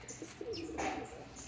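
A king pigeon coos softly at close range, with a few low gurgling notes and faint chirps in a quiet setting.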